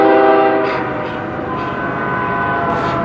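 Distant freight train horns blare at night in Fostoria, Ohio, in a sustained, layered chord, holding steady over a low rumbling background.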